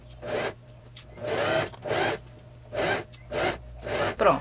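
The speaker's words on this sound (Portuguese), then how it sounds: "eu vou passar uma costura pra fixar isso aqui" Sewing machine running in several short bursts, stitching down pleats on a puff sleeve, each run under a second long with brief pauses between, close and fairly loud, no voices.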